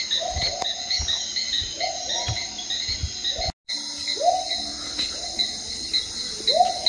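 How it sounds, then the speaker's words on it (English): Frogs call near the entrance of a Peruvian jungle site, giving a regular series of rising, whooping notes over a constant high insect buzz and chirping, with a brief gap partway through. "You just hear these frogs, the call of whatever that one thing is."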